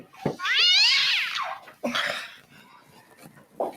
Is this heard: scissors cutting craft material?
no